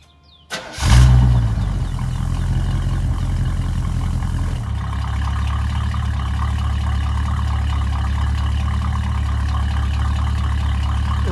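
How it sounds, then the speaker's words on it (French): A 1977 Chevrolet Malibu Classic V8 with dual exhaust fires up with a sharp burst, then settles into a loud, steady, deep rumbling idle that holds close by to the end, with no talking. "Regardez-moi ça, cet échappement, écoutez-moi cet échappement."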